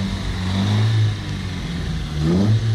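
A car engine revs up as the throttle is pressed during an automotive sensor practice, rising from a steady idle into louder surges, close and continuous, with no talk.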